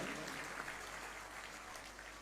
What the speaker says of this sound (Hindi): जोरदार ताली बजा करके स्वागत, अभिनंदन